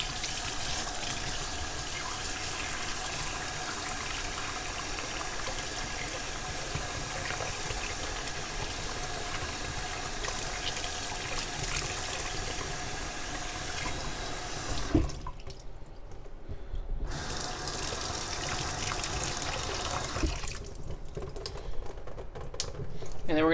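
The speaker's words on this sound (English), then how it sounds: "I'm just going to run some warm water at first." Warm tap water runs steadily through a clogged PUR water filter with a constant rushing hiss, briefly cutting out twice before resuming, close and fairly loud.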